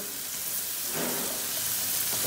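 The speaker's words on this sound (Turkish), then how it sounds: "Yağı ilave ettiğimiz gibi biberlerini atıyoruz içine. Biberleri de şöyle ortalama 1 dakika kadar bir soteleyeceğim." Peppers sautéing in hot oil in a pan, a steady close sizzle that swells slightly partway through, with no talking.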